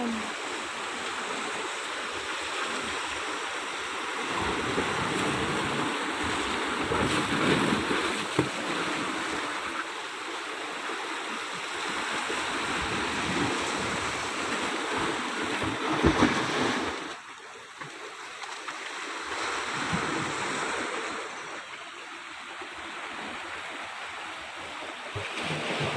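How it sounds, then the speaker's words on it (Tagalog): Strong ocean waves along the Samar coast near the Bantayan rock formation roll and wash in a steady, loud rush, with wind buffeting the microphone and a brief lull partway through. "Wow, ang lalakas ng alon."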